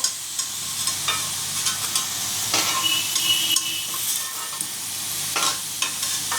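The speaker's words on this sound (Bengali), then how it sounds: "তা আলুগুলো ভালো করে ভেজে নিই" Potatoes crackle and sizzle steadily as they fry in hot oil, with scraping stir strokes breaking in now and then; close and fairly loud, no talking.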